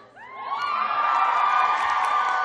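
Convention panel audience at TwitchCon cheering, whooping and clapping, a loud sustained crowd roar that swells in within the first half second and holds steady.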